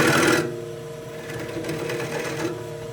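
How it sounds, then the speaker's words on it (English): A gouge cuts the inside of a wooden bowl spinning on a lathe, with a loud rough burst of cutting at the start, then a steady humming drone of the turning lathe with lighter scraping. "make some room for those push cuts."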